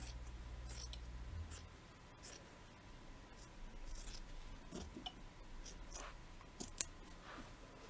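Scissors snipping fabric for a crazy quilt block, giving soft, faint, irregular cuts over a low background hum, with no talking.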